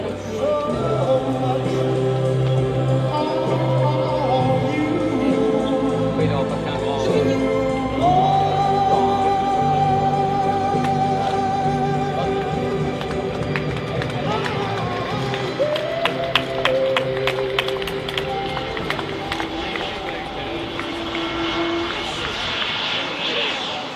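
A Dassault Falcon 6X business jet flies a demonstration at the 2023 Paris Air Show, its engine roar rising and falling behind a French public-address announcer talking throughout, with crowd noise at the end.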